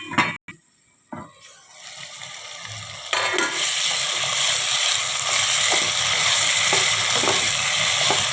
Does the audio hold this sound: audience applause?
no